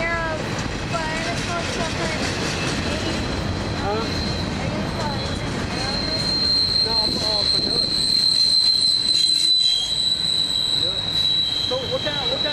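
A Norfolk Southern freight train led by an Erie heritage locomotive rolls past in Mableton, Georgia, with high, piercing wheel squeal over a rumbling, rattling roar that swells and stays loud; no clear talk is heard.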